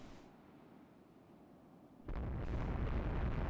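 Naval gunfire in the warship strategy game Rule the Waves 2 during a night clash with destroyers: a low, steady rumble gives way at about two seconds to a sudden loud, broadband boom that holds as a dense roar to the end, with no talk.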